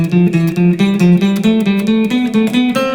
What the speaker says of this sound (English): You can go up 3 notes at a time in your scale, but then go back a note, go up 3 more, go back a note, go up 3 more